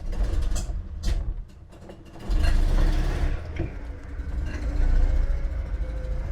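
Invacar invalid carriage pulling away and driving up a country lane, its engine a steady low rumble that rises in strength partway through, heard close and loud with wind buffeting over it.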